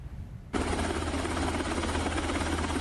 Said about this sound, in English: A helicopter believed to be carrying 2 rescued Israeli hostages touches down at a hospital.